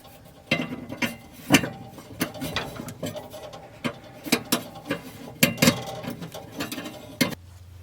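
Screws being loosened and removed from an oven sensor in an RV, a series of sharp metallic ticks and ratcheting clicks at irregular intervals, close and fairly quiet, with no talking.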